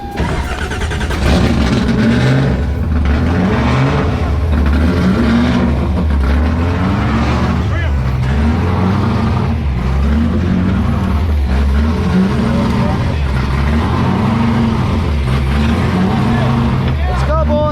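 A drift car engine starts and runs in the pits at Formula Drift Long Beach 2023, a loud, close, rhythmically pulsing roar with people talking over it.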